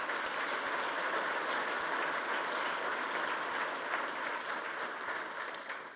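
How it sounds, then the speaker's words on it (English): Steady applause fills a press conference room introducing Tulane's new head football coach, a dense even clapping with a few sharp close claps, holding throughout and fading slightly at the end. "Yeah, you can applaud them"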